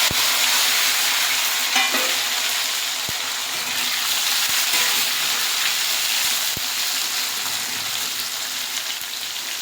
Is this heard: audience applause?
no